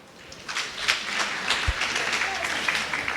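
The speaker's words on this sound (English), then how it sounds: "If you come from outside OR Tambo, would you clap your hands and appreciate OR Tambo for hosting us?" Audience at a development imbizo in Mthatha, Eastern Cape, clapping in welcome, a loose, uneven patter of hands rising and falling, with a voice heard faintly over it.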